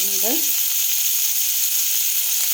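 Steady loud sizzle of onion, spices and tomato frying in oil for gobi manchurian, a continuous hiss with a brief squeak near the start.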